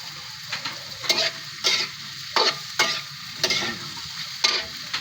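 Alugbati greens being sautéed in a pan, a soft background sizzle punctuated by sharp, irregular scrapes and clinks of a utensil stirring and tossing the leaves, close up with no talking.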